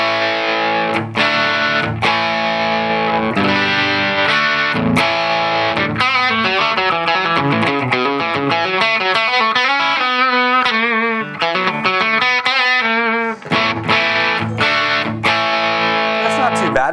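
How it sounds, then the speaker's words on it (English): Overdriven Blackstar Amped 3 electric guitar amp, drive engaged on the clean channel, with a crunchy, distorted tone plays chords and then a run of single notes, loud and continuous with no voice. "Let's engage the precision drive instead and hear how that reacts with the clean side of stuff."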